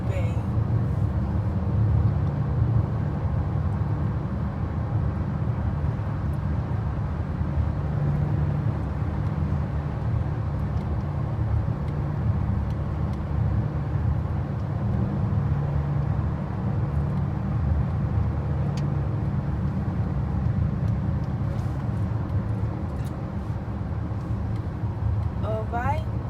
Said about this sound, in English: Good engine noise.